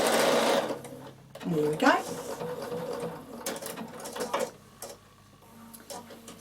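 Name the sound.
Bernina sewing machine stitching boiled wool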